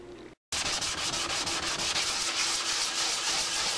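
Steady, rhythmic scraping of a sanding block rubbing back and forth across a Yamaha FZR motorcycle part during restoration, close and continuous after a brief pause at the start.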